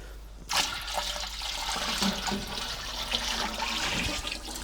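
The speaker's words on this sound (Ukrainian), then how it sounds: "Заливаємо наш спирт-сирець в куб для перегонки." Raw grape spirit poured into a distillation still for homemade grape brandy, a steady rushing, gurgling stream of liquid starting abruptly and continuing close by.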